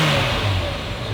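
A Ferrari engine revs briefly right after its first start, a short loud burst of throaty mechanical roar close to the car.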